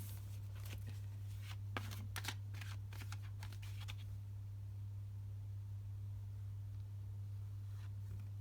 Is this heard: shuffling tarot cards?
yes